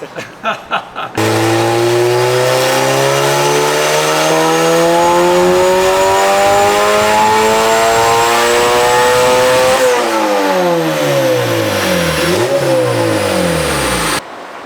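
Turbocharged Honda B18C engine on a dyno, idling briefly then revving hard in a long, rising pull for about eight seconds before dropping off and settling back; loud, close and continuous with no talk.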